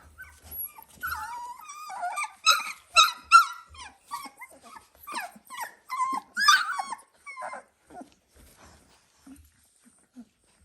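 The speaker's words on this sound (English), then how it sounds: "Nala, I'm giving attention to puppies, not you" Twenty-day-old Dalmatian puppies squeak, whimper and yelp in a busy, uneven stream of short high cries, with an occasional soft growl from an adult dog close by.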